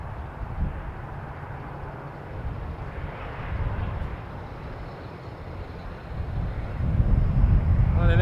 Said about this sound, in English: Porter 539 headed to Fort Myers after this departure.